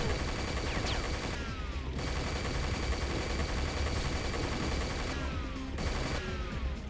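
Weapon fire in the first-person shooter Unreal, a dense, continuous barrage of loud gunshots and blasts filling the whole stretch, with no talk over it.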